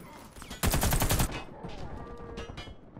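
Gunfire from a match of the video game Warface on Xbox One: a loud, dense burst of rapid automatic shots for about half a second, followed by quieter scattered shots and game sounds.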